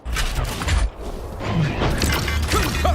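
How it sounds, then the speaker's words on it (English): Weapon reload in Valorant, a series of mechanical clicks, clacks and ratcheting creaks, close and fairly loud over steady in-game background noise. "Reloading."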